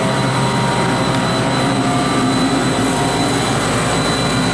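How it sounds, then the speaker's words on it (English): The larger compressor of a 2007 Carrier 35-ton Aquasnap chiller runs with a loud, steady roar and hum, broadband and unchanging from start to finish. "Right now it's the bigger compressor, or the contactor, that's kicked on right now."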